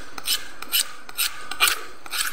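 Fish scales and spines being scraped off with a blade, a rough rasping stroke repeated about five times in a steady rhythm, close and moderately loud with no talking.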